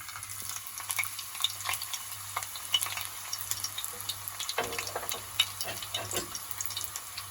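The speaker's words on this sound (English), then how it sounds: "we're going to fry the onions in some olive oil and sunflower oil" Onions fry in a mix of olive and sunflower oil, giving a steady soft sizzle with occasional stirring and crackles, close and fairly quiet, with no talking.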